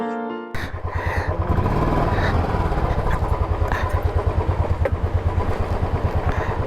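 A motorcycle engine runs steadily and close with a pulsing rhythm as the bike crosses the long Kushma suspension bridge in Nepal. The engine stays loud throughout, with no talk over it.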